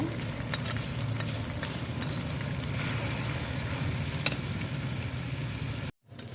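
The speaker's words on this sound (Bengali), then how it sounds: "আমার মশলা কষানো হয়ে গেছে।" Turmeric, chili and salt sizzle in hot oil with fried onions in a pan, a steady crackling hiss throughout, with a brief stir clink before a sudden cutoff.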